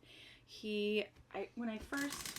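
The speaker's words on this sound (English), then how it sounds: "Sorry for the crinkling here" Plastic packaging crinkles and rustles in bursts while a yarn project is handled, close to the mic and mixed with voiced sounds.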